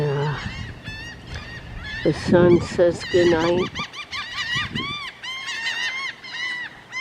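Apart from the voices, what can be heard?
seagulls calling as they fly overhead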